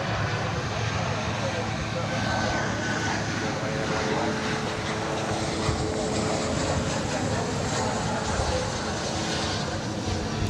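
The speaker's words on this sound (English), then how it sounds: "Arriving there is Flight 1664 from McAllen, Texas. It's a 737-800. Touching down" An American Boeing 737-800 arriving from McAllen, Texas touches down at Dallas Fort Worth, with a steady broadband engine roar holding at a constant, fairly loud level.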